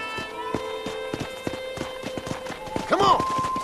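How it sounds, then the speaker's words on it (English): Horse hooves clip-clopping at a steady trot in Red Dead Redemption, a regular close rhythm of hoofbeats, with a voice briefly calling out near the end over the hooves. "I picked out a fine horse for you."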